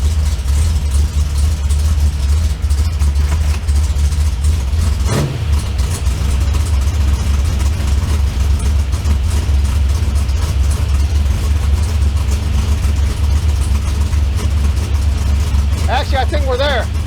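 A car engine fitted with a 4150 E85 carburetor idles steadily in gear during tuning, a constant low rumble with one brief rev blip partway through, heard under a voice.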